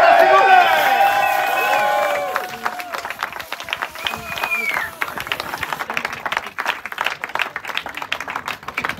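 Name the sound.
applause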